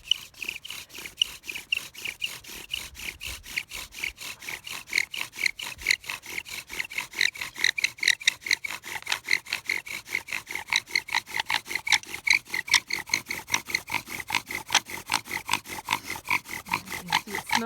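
Bow drill spindle rubbing against a wooden board to build an ember from the dust, a steady rapid back-and-forth rasping with fast regular strokes, close and loud throughout with no talk.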